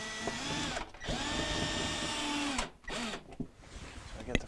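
Power driver whirring in sustained bursts as a screw is driven into a bracket during an Admiral refrigerator defrost heater repair, with short pauses between runs and a few clicks near the end.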